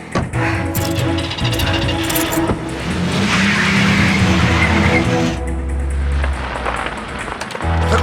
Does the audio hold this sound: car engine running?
yes